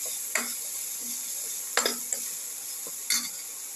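Food sautéing with turmeric powder in a pan: a soft, constant sizzle broken by a few sharp spoon scrapes and clinks against the metal, close by and without any talk.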